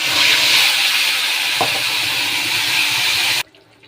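Spice paste goes into hot oil with fried potatoes and bay leaves for a potato curry, giving a loud, steady sizzle and hiss that stops abruptly near the end.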